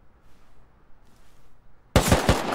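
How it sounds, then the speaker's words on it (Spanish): A burst of gunfire erupts in a Rust match after a near-silent lull, two or three loud, sharp cracks close together at the end. "Me ha salido disparando de una."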